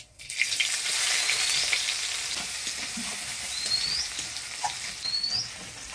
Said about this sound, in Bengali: ফোড়নের তেলে পেঁয়াজটা নাড়াচাড়া করে নিলাম